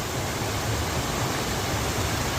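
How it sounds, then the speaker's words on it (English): A mountain waterfall on the Machu Picchu Mountain circuit roars as a loud, constant broadband rush that fills the whole moment without pause or talk. "there's waterfall number 1"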